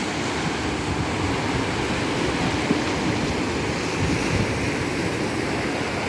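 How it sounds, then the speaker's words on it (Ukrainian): Steady broadband rush of Black Sea surf washing onto a beach in Odesa, continuous and fairly loud with no voices, like waves rolling in at close range. "Отаке сьогодні у нас море."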